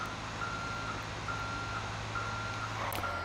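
A garbage truck in the video game GTA 5 Online sounds its reversing alarm, evenly spaced beeps repeating steadily over a low engine hum.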